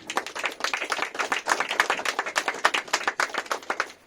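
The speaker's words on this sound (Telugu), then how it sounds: "గట్టిగా చప్పట్లు కొట్టండి" A church congregation claps loudly together in rapid, continuous, slightly uneven rhythm, filling the room for several seconds with no talk.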